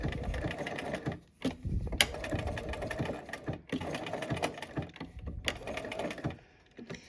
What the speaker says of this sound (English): let's go ahead and start doing our buttonhole around the center here